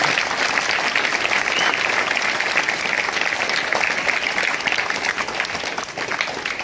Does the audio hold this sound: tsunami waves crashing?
no